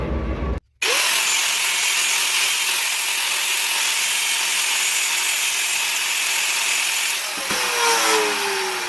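Power tool cutting notches in a metal plate during work on a 1970 Cadillac Eldorado choke conversion: a loud, steady grinding whine runs almost continuously, with a brief stop near the start and a spin-down toward the end.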